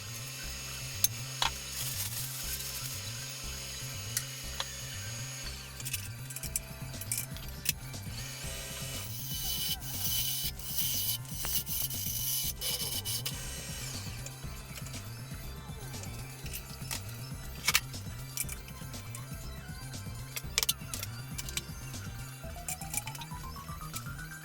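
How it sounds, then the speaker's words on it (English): A wood lathe spins a green wood bowl while it is hollowed out on a chuck, producing a steady close mechanical drone with a regular rhythmic pulse and intermittent scraping tool contact, alone without speech. "Here I've got it turned around on my chuck, and I'm going to start hollowing it out."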